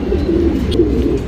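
A male tournament-bred racing pigeon cooing in low, soft, continuous murmurs, close and fairly loud, with no talk over it.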